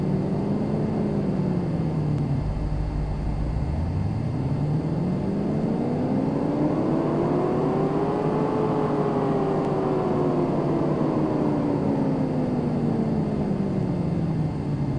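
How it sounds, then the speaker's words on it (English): Nissan Skyline R34 GTR on a dyno in Car Mechanic Simulator 2018, a loud steady engine drone whose pitch dips, then climbs smoothly to a peak and slowly falls back over a long run. "So let's dyno it right now"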